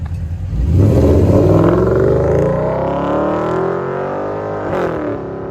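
A Porsche Cayenne S with a 4.8L V8 and Vibrant exhaust with quad tips revs loudly and close, its deep burbling note climbing sharply, holding a high rumble, then settling back toward idle.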